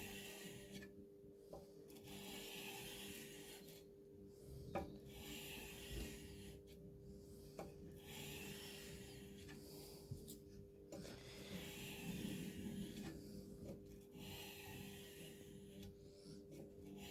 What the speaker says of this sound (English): Depending on the sandpaper, it can take a couple of minutes to a couple of hours.